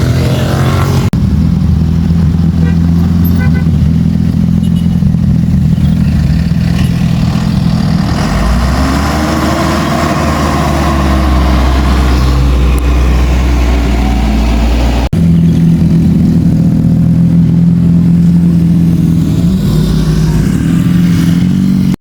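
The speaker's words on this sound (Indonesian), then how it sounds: "Ini suasana di parkiran ya guys, sudah sepi, dan ini teman-teman sudah mempersiapkan mau pulang" Steady engine rumble from motorcycles and cars idling and pulling away in a quiet parking lot in Dieng, with a low drone that swells and recedes as vehicles rev and depart nearby.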